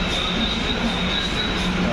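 A Kolkata metro train rumbles into an underground station with a loud, constant roar of wheels on rails and a faint high squeal, while voices murmur nearby.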